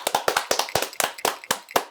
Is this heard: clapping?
yes